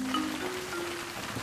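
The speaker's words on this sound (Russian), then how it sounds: "Ну вот, пошел дождь," Cartoon rain in Peppa Pig, a soft steady patter of falling drops, quiet and continuous over a faint tonal background, with no voices.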